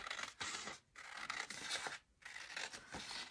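Scissors trimming a tiny sliver off a paper edge on a craft desk, three close crisp snipping strokes in quick succession separated by brief pauses, quiet and without talking.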